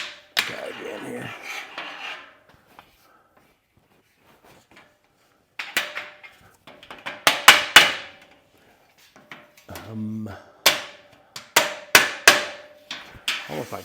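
A hammer strikes while storage racks are installed indoors, with sharp, loud blows that come in irregular clusters separated by quiet gaps and faint shuffling.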